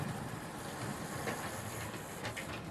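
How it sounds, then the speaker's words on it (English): A Hornby model train runs steadily round its track, producing a continuous close whirring rumble with faint rhythmic clicks, alone without talk. "we're going to see if we can bring this train round"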